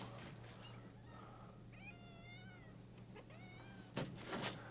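A cat meowing several times at close range, a few distinct meows in a quiet room with a low steady hum beneath and a brief rustle near the end.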